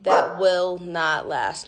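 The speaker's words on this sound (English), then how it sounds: "Excuse the noise in the background. They're my dogs playing." Dogs play and bark in the background, yipping sounds mixed under a person speaking close by throughout the short moment.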